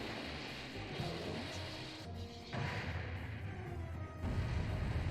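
Dense, rumbling blasts and crashes from the anime Neon Genesis Evangelion's "Angel Attack" episode roll on continuously, with a heavy booming swell toward the end.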